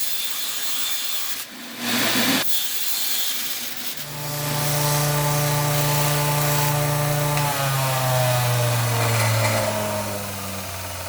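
A belt sander smoothing the edges of a painted aluminum piece, a steady loud grinding whir that rises in tone partway through and runs continuously with no talk.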